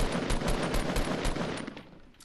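Rapid gunfire from the video game Fortnite, a fast burst of shots that rattles steadily for about a second and a half, then thins out and fades as the firing stops.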